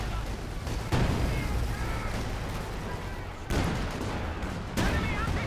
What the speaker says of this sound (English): Now got a great barrage from the Zis gun